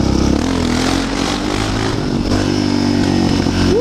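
Yamaha TTR 600 supermoto motorcycle engine running loud and close, holding a steady throbbing note with a rising rev at the end, no talking.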